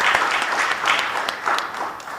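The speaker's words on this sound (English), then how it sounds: "a big clap to Mojuka" An audience at a formal event on taxation and economics applauds an MC, giving a short burst of dense clapping at a moderate level with a few sharper claps standing out.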